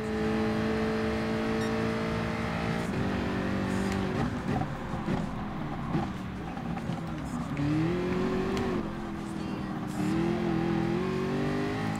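A race car revving and accelerating in Gran Turismo Sport, the steady engine drone climbing in pitch through gear changes, loud and close throughout, with occasional faint talk underneath.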